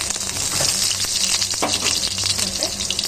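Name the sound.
tempering onion and curry leaves in hot oil for sambar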